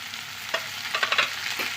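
Taro, potato and eggplant tossed into onions frying in a pan bring a close sizzle with a few quick stirring scrapes and clatters, brief and continuous.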